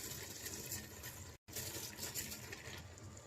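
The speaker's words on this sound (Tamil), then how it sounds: "இப்போ இந்த ஸ்டேஜில் அரிசியை ஆட் பண்ணிக்கலாம்." Soaked rice tipped into a pot of cooked mutton biryani masala, a dense rushing pour with scattered grain patter, broken by a brief silent gap midway, close and moderately loud with no talk.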